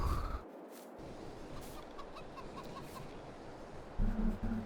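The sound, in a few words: chickens clucking in a video game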